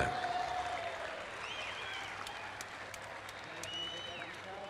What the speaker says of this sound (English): How about a big round of applause for these legends of football here in the top end?